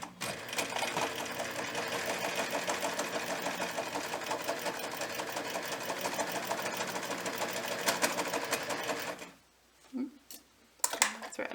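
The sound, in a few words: sewing machine stitching around fabric pumpkin pot holder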